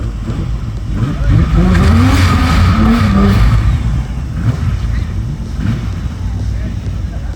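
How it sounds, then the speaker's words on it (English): Turbo race cars, a rear-wheel-drive six-cylinder against a front-wheel-drive four-cylinder, roar loudly under an announcer's voice, with a rising engine note and sustained rumble plus wind noise. "rear wheel drive 6-cylinder turbo, taking on front wheel drive 4-cylinder turbo."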